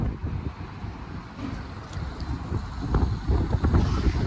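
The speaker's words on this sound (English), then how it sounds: "it's very windy" A strong wind batters a lowered truck towing on a highway road trip, a dense, low roar and rumble of gusts and buffeting against the cab, steady and loud with swells, with no talk.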